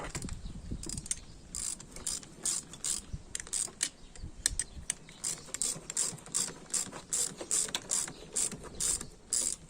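A hand ratchet fitted with a 13 mm socket clicks steadily on a Yamaha YZF R125 motorcycle, a long run of close, fairly quiet rapid pawl clicks in repeated bursts with no talking.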